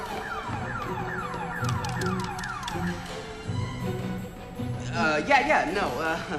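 An electronic alarm siren goes off, blamed on a malfunctioning LM714 chip in a breadboard circuit; repeated sweeping wails, then a warbling burst near the end, loud with background noise.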